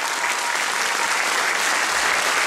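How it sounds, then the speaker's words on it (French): A dense, steady wave of audience applause at a fashion show and speech event fills the whole stretch, loud and unbroken with no voices on top. "j'aimerais bien qu'on applaudisse à nouveau Micheline Di Gregorio"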